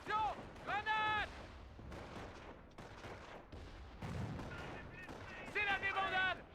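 Rapid gunfire and booming artillery in a Company of Heroes Normandy battle, bursts of shots over a rumbling battlefield, with in-game voices shouting orders in French between the volleys.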